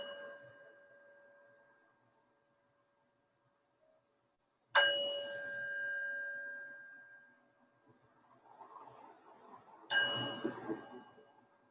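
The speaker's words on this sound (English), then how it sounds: "I'm going to ring the bell to invite us in" A bell is struck twice to open a slow flow and yin yoga practice, each a clear metallic ding with a long ringing decay, the strikes about five seconds apart in a quiet room.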